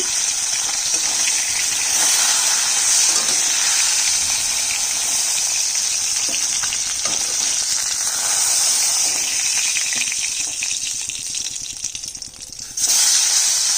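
Two more fish pieces go into a pan of hot mustard oil, and a dense, close sizzle carries on steadily, thinning for a moment before a sudden loud burst returns at the very end.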